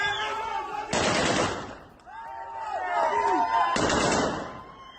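Aerial gunfire during street unrest in Ilam, Iran: two loud, broadband bursts of shots about three seconds apart, with voices heard between them.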